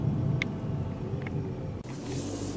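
Road and engine rumble from a 2018 Toyota C-HR while driving, a steady low drone with broadband noise at a constant level, no talking.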